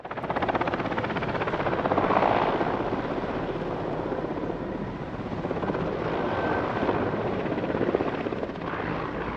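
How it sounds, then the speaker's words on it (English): A helicopter flying backwards, its rotor chopping steadily in a loud, continuous thumping drone, fairly close and alone, with no voices. "This helicopter flying backwards."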